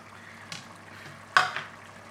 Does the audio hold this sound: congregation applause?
no